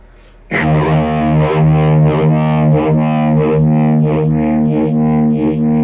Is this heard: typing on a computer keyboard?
no